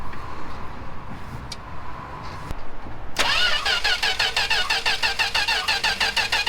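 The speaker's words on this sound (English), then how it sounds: "let's see if she cranks" An old four-door Mopar sedan, long neglected and running on stale gas, cranks briefly and then catches and starts, settling into a loud, steady, rhythmic idle close by.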